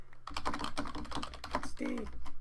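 Rapid, continuous typing on a computer keyboard during a Minecraft prison-server session, dense clattering keystrokes close by, with a brief tonal blip near the end.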